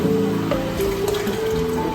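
Banga palm nut extract for Nigerian soup poured into a pot, a steady close liquid stream with gurgling, rising tones as the vessel fills, continuous for a couple of seconds without speech.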